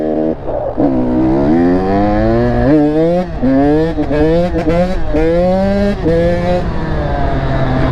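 An 85cc KTM two-stroke dirt bike ridden at dusk, its engine note climbing and falling through repeated revs and gear changes, loud and close throughout, with no one talking.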